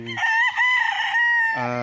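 A rooster crows loudly and close on a fenced farm lot in Liliw, Laguna, one long drawn-out call framed by short clucks from the flock.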